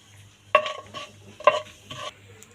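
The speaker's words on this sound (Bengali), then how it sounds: "নাড়াচাড়া করে নিব।" A spoon stirs chana dal halwa mixture in a pan, with three distinct scraping strokes against the metal over a faint background hum. No one speaks.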